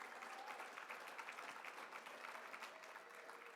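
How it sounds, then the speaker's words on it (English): A crowd gives a sustained round of applause at a climate solutions talk, many hands clapping in a dense, even wash that is fairly faint and distant and carries no speech. "Let's give them a round of applause"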